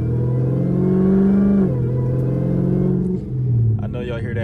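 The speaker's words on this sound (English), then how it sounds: "I know y'all hear that whine getting a little bit louder." A Dodge Hellcat with a ported supercharger snout revs steadily, its engine drone carrying a rising supercharger whine that holds loud for several seconds, dips briefly, then climbs again.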